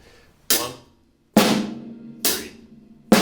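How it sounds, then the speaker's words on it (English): Four loud, crisp snare cracks with bright rattling decays, played alone in a slow, even backbeat with silence between hits. "the snare drum is going to go on beats 2 and 4"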